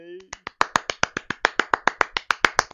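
A single person claps rapidly and evenly, about fifteen sharp close claps in under three seconds, after a brief voice at the start.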